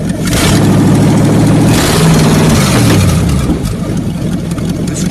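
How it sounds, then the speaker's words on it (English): Motorcycle engine idling with slight blow-by, a loud, steady, close rumble with a low uneven pulse that dips slightly in pitch partway through, running alone without talk. "That's a little bit of blow by this motor"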